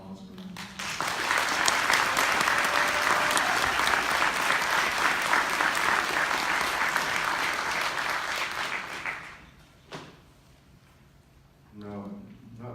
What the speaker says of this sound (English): I'd like to say a good chin up and a round of applause for him